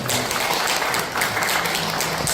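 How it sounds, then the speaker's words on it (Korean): An audience applauds a guest lecturer after a special talk, a dense, loud burst of clapping that fills the room for a couple of seconds with no voices over it. "자, 다시 한번 우리 손상철 강사님한테 큰 박수 부탁드리겠습니다."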